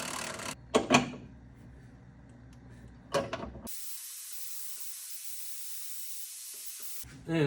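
Brake fluid is sucked out from between O-rings on a 1970 Triumph TR6 with a steady, close hiss of suction lasting a few seconds, preceded by clicks and handling noises of tightening.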